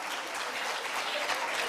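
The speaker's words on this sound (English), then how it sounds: "So I think we all should give an applause." Dense, steady applause from a conference audience at a women's leadership gathering in Indore, a continuous wash of many hands clapping at even loudness with no voices over it.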